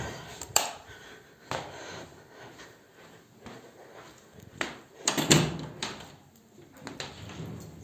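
A door is handled nearby: a sharp latch click, then knocks and a clattering thud as it swings open, amid quiet room sounds.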